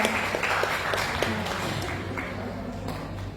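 An audience claps in applause at the close of a talk on parenting and puberty: a short burst of dense, crackling hand claps that thins slightly toward the end, with faint voices mixed in.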